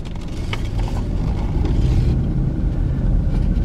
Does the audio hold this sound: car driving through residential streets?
yes